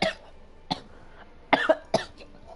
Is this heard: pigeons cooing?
no